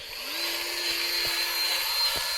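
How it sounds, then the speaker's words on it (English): A brand new Ridgid grease gun being tested, giving a steady mechanical whine with a rising tone that holds level, plus faint clicks, close and moderately loud with no talking. "now we are testing out my brand new rigid grease gun"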